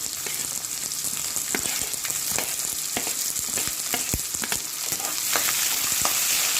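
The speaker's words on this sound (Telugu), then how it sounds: "ఇది బాగా వేయించుకోవాలండి. ఉల్లిపాయలు, వెల్లుల్లి," Onions and garlic fry in a pan for a Telugu curry, a steady close sizzle with scattered crackles and pops and occasional stirring scrapes, no talking.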